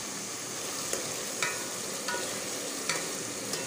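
Ginger and garlic sizzle softly in a pan for achari aloo salan with a splash of water added, with a steady low frying hiss and several brief scraping clicks from stirring.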